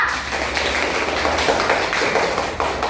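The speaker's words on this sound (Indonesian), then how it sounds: "Tepuk tangan untuk Kisha." Classroom applause for a student named Kisha, a dense burst of many hands clapping at once, loud and close, lasting the whole stretch without a break.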